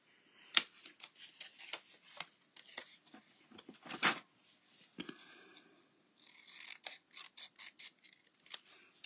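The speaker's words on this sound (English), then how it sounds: "I need to cut this just a tad more." Scissors snip designer series paper for a stamped butterfly card craft in a quiet room, producing short, crisp cutting clicks in irregular clusters, some sharper and louder, with faint paper rustling between them.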